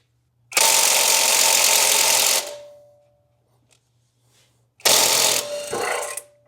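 Hercules compact half-inch cordless impact wrench on a 6-inch extension, flex joint and 14 mm impact socket, loosening a bolt: two loud, sustained hammering bursts with a pause between, close up and without talk.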